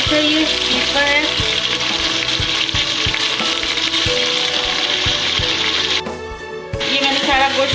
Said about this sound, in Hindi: अब इसको मैं अच्छे से फ्राई करूँगी ताकि इसका कलर जो है चेंज हो जाए।